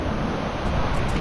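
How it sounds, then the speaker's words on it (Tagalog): Strong ocean waves surge during an island-hopping trip, a loud, continuous roar of surf mixed with wind buffeting the microphone and no talking. "Legit ang lakas ng alon."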